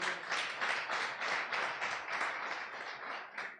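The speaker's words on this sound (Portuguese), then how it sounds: "Vamos aplaudir ao Senhor." A church congregation applauds during a Sunday evening worship service, a steady wash of many hands clapping together that stays fairly loud and even throughout, with no talking over it.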